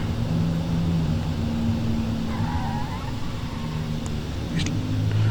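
A Lancer car driving in a video game, with a continuous engine drone and road noise at a steady, moderate level and a few brief higher clicks.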